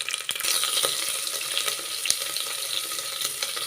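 Onions and curry leaves fry in a pan for butterfly pea flower upma, giving a steady, close sizzle with faint stirring clicks and no talking.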